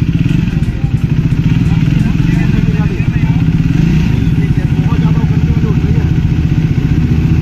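A Triumph 400 motorcycle engine runs close by with a steady, rhythmic thumping idle for a test drive, while voices talk over it.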